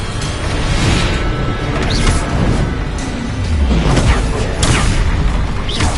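A Bombarda spell blasts in Hogwarts Legacy, a loud, dense burst of booming explosion and crashing debris filling the whole stretch with swelling whooshes.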